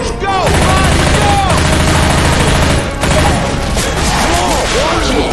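Dense Left 4 Dead 2 gunfire rattles in fast bursts almost without pause, with shouting voices layered throughout.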